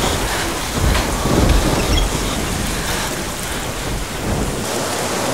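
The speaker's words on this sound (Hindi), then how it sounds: "तुम इतनी तेज बारिश में कहाँ गए थे?" Heavy rain pours down in a dense, steady roar with low rumbling beneath it, loud and close, without voices, easing slightly at the very end.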